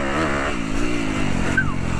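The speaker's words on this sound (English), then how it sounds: "first ride on a new bike. 2021 Yz250F." A 2021 Yamaha YZ250F dirt bike engine revs steadily and loudly up close, a buzzy four-stroke drone rising and falling in pitch as the ride gets under way.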